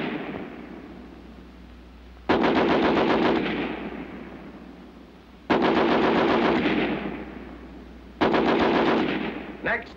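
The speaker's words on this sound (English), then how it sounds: "each weapon will fire 30 rounds. First, the American Light 30 on the bipod." An American Light 30 machine gun fired from a bipod during a 30-round test, delivering three loud, sharp bursts of rapid automatic fire separated by pauses, each burst ringing out with echo.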